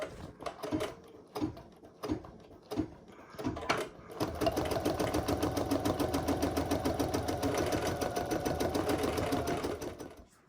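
An embroidery machine stitches the first hooping of a design: a few separate mechanical clunks come first, then a fast, steady rattling stitch runs continuously at moderate loudness until the end.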